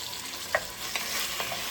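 Vegetables sautéing in a pot for chicken gnocchi soup, a soft continuous sizzle with a few light stirring clicks and scrapes, close and fairly quiet.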